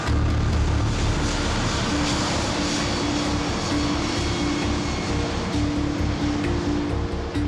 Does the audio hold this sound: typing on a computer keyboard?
no